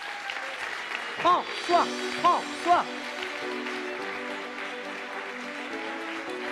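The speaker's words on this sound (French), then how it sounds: "Un tonnerre d'applaudissements pour lui" Audience applause greets a speaker, the founder of an ocean conservation association, a steady patter of clapping running throughout under a voice speaking briefly in bursts near the middle.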